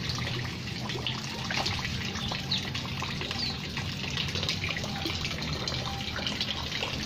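Shower water runs steadily over a small child at bath time, a continuous close splashing hiss with no break and no voices.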